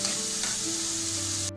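Mixed vegetables and green peas frying in a pan for spicy masala noodles, a loud continuous close sizzle with a faint tonal hum beneath, cutting off sharply at the end.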